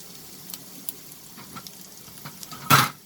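Chopped onions tip into a hot pan of chicken stir fry with ginger and garlic, setting off a sudden loud burst of sizzling frying after a quiet stretch of faint scattered kitchen ticks.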